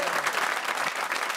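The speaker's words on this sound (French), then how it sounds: "Et d'applaudir" Brief burst of TV studio audience clapping, soft and distant, a short uneven patter lasting barely a second and a half.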